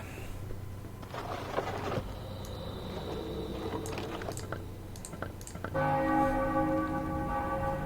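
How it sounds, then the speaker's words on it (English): A bell rung at an altar in Baldur's Gate II: Throne of Bhaal, struck once with a bright, sustained ringing tone that lingers after clicking and a low background hum. "The bell chimes once, and the glow of the altar pulsates in response."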